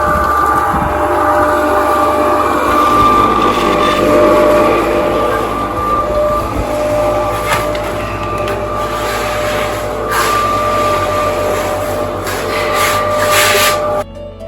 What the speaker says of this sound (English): as predicted, mixer is on and Mitch is concreting the floor